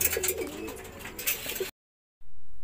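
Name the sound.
pigeons cooing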